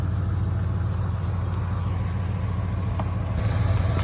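A 1978 Mercury Grand Marquis Coupe's V8 engine idles steadily with a deep, throbbing low rumble, close and continuous throughout.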